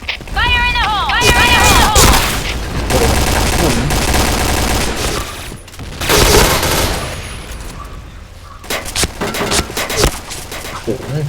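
A shooter video game plays rapid bursts of gunfire and a grenade blast, loud and dense, with players talking and shouting over the constant shots throughout.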